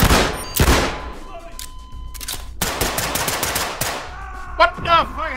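Gunfire in the tactical shooter Ready or Not: a loud, sharp automatic burst opens, followed by further scattered shots and rattling, with brief voices near the end.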